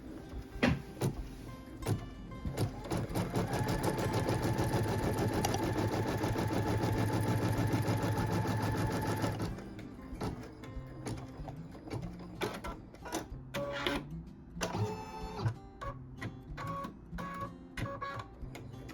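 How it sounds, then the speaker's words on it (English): A quilting machine tacking down fabric before quilting a border and all-over design runs with a loud steady mechanical whir for about nine seconds, then stops, followed by scattered clicks and handling noises. "what we're going to do right now is tack down the fabric before we quilt the design"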